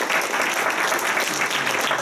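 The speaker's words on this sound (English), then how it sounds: "let's give them a round of applause" Audience applause at a conversation event on the California painter Zhang Daqian, with a dense, steady clapping wash that holds at full strength and does not fade.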